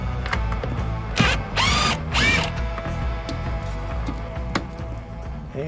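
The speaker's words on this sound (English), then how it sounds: "that's just going to be a matter of removing these 3 screws" Screws backed out of a threshold transition plate on a step installation, with a couple of short whirring driver bursts and scattered clicks and handling noises, no speech.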